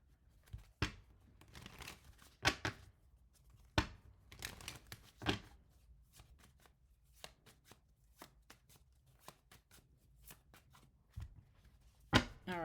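Tarot cards are shuffled by hand in quick bursts of sharp, papery riffling and slapping, close and crisp, separated by short quiet gaps and fumbling handling noises, with no talking.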